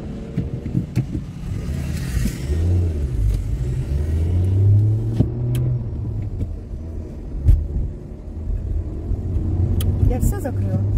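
A car pulls away with a low engine and road rumble that builds and swells, heard from inside over talking.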